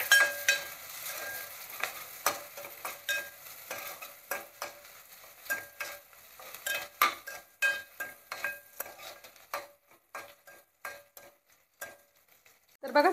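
Mutton fat and onion sauté together in a pan, a crackling sizzle punctuated by frequent crisp scrapes and taps of a spatula stirring, close by, with quieter gaps toward the end.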